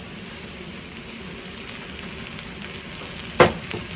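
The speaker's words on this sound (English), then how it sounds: "I'm going to put a little more olive oil in." Olive oil sizzling steadily in a hot wok on a camping stove, a close continuous crackling hiss with one brief sharp clatter near the end.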